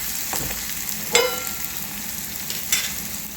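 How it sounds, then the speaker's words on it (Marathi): Onions with ginger and garlic sizzle and fry in a pan, a steady close hiss with a few brief stirring clatters and no talk. "यामध्ये कांदा घालून घ्यायचा आहे आणि याला छान गोल्डन ब्राऊन होतपर्यंत परतून घ्यायचं आहे।"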